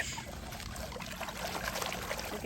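Water gushes from a leaking underground pipe in a dug-up patch of ground, a steady, close, loud rush and splash without pause.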